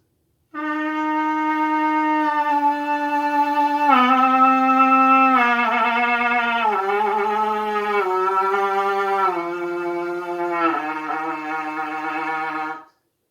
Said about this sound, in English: there you have a really nice descending major scale on the lead pipe